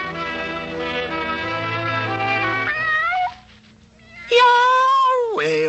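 A cartoon cat from the Woody Woodpecker Show lets out long, drawn-out meows and wailing caterwauls, loud and close, with a brief pause before a final rising yowl.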